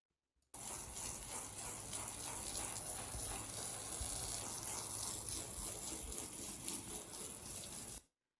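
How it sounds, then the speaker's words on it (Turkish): Plenty of water pours over a carpet being rinsed by hand at home, making a loud, steady gushing splash that runs unbroken for about seven seconds and then stops abruptly. "Bu şekilde halının her yerine gelecek şekilde bol suyla ıslatıyorum."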